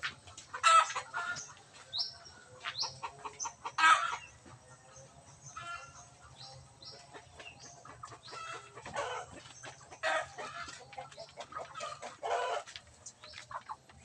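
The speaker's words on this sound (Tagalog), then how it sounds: "Pumasok man yung manok." A chicken clucks in short, scattered bursts at moderate distance, with brief louder calls among quieter chatter and no voices.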